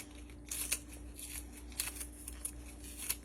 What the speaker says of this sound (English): I'm just going to cut that right in there.